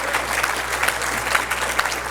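Steady applause from a crowd for a keynote speaker, dense clapping throughout with a few sharper claps standing out, fairly close and continuous.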